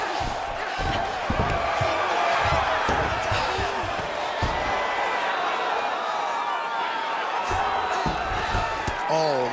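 A UFC crowd during a women's co-main event fight at UFC 309 roars and murmurs continuously, with thuds from the cage and a commentator talking over the noise.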